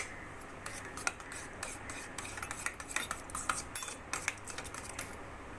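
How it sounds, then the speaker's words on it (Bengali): A ladle stirring milk into yogurt in a bowl: soft, irregular scraping and clinking strokes, close and quiet, with no talking. "আর 1 হাতা দুধ নিয়ে এই দইয়ের মধ্যে মিশিয়ে নেব ভালো করে।"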